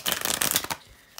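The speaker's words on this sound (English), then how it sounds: "just hold on with me, guys, to shuffle the cards" Tarot cards riffle-shuffle in a quick, close burst of dense papery flutter that ends with a soft settle.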